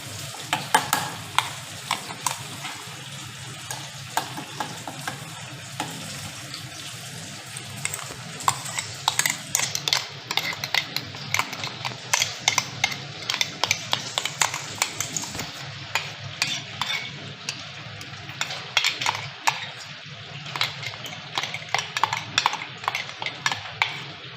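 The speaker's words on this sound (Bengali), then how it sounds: "ভাপেটার জন্য আমি এখানে মাখিয়ে নিচ্ছি।" A grated coconut and white and black mustard seed paste with green chilli is mixed by hand in a container, giving close, wet, squelching stirs that keep up a steady rhythm for the whole stretch.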